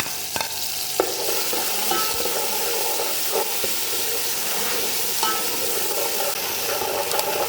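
Ginger garlic paste sizzling loudly in hot oil in a pan while making kari pakora, a dense constant hiss with occasional light scrapes of stirring, close up and without talk.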